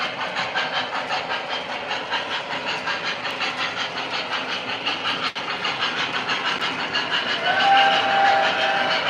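An O scale model steam train chuffs in a fast, regular rhythm, then its whistle from an MTH sound set sounds near the end, rising over the steady clatter.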